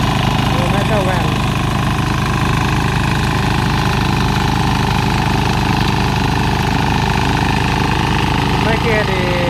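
Steady close-up drone of a mini diesel tiller engine running in a rice field, its chugging beat constant throughout with faint brief tones rising over it now and then.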